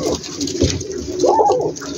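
Well-kept pigeons in a large rooftop loft in Gujranwala coo close by in soft repeated throaty bursts, loud and with no talk over them.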